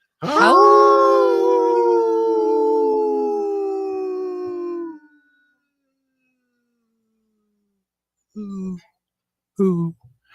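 Wolves let out a long, loud, clear howl lasting about five seconds, followed by silence and then two short, sharp howl-like yips.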